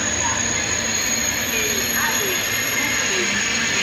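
A train arriving at Narbonne station in France rolls steadily with a constant loud rumble and faint wheel squeals, continuous throughout with no clear pauses.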